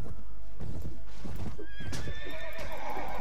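Horses neigh and gallop during a battle in the video game Mount & Blade: Warband, with clip-clopping hooves and loud whinnies over dense battle noise.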